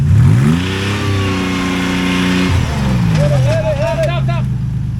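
An off-road vehicle engine revs hard and climbs in pitch, then drops and revs again as the driver tries to power out of a stuck spot on desert terrain, loud and close, with people talking over it.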